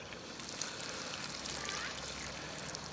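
Water from a garden hose pours onto vegetable plants in a home garden plot, giving a constant close, rushing splash that holds at one level throughout.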